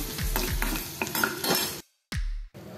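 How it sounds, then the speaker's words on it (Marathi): Coriander seeds, red chillies and garlic sauté in hot oil as a spatula scrapes and stirs the pan in quick close strokes over a steady sizzle, then it briefly cuts out before a final scrape. "त्या थोड्याशा आपण परतून घेऊया।"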